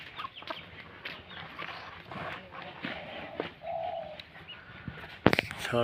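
Pets pigeons kept for sale coo in soft, repeated low calls nearby, mixed with other bird chatter and clucking. A voice speaks faintly in the background, and a sharp rattle comes near the end.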